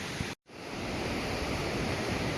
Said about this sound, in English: You got the nice river here